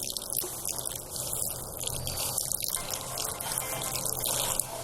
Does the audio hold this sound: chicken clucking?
no